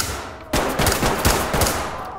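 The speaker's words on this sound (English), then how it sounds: "they're shooting at me" In the video game Ready or Not, rapid gunfire breaks out after a brief lull: a loud, dense burst of automatic shots with several sharp cracks, heard close and with no talk.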